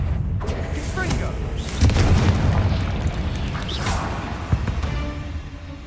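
A Confringo fire spell exploding in the Hogwarts Legacy video game, with a few booming blasts and whooshes, one stronger burst midway and a sharp pop near the end, over a soft background rumble.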